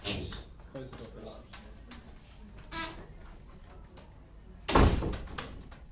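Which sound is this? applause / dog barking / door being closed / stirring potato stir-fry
door being closed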